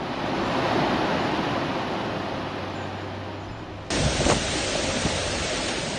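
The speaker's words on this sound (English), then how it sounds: "you can still feel the scale of the water pouring over Steubenville" Floodwater pours over Steubenville in a dense, continuous roar of rushing water, loud and broad, with a sudden shift partway through as the rush grows harsher.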